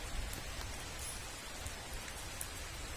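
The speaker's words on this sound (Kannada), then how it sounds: "ಈಗ ಮತ್ತೆ ಹನಿ ಬೀಳ್ತಾ ಇದೆ" Rain drops from the first rain of the year fall in a steady, even patter close by, with no voices over it.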